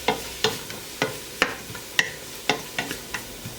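Vegetables stirred in a pot over oxtail browning residue, with repeated scraping spoon strokes roughly every half second over a steady close sizzle, no talking.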